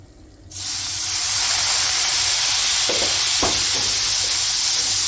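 Wine splashed into a hot cast iron pan holding antrikot steak and butter erupts into a loud, sustained sizzle and hiss that runs steadily for several seconds, with a couple of faint clinks near the middle.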